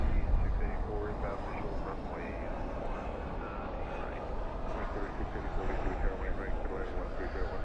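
A landing airliner at Dallas/Fort Worth airport at night roars with spoilers up and thrust reversers deployed, a steady, fairly loud rumbling rush over several seconds with people talking over it.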